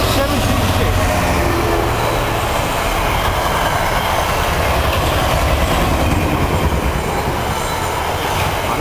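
A Freightliner freight train rolls past Needham Lake, its wagons rumbling loudly and steadily with wheel squeal and a rattling clickety-clack throughout.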